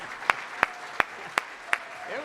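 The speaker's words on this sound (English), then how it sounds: "let's give the mayor a round of applause" A few scattered, separate hand claps from a small audience at the Hawaiian Gardens 2017 State of the City event, greeting the mayor; about five sharp, evenly spaced claps over a quiet room.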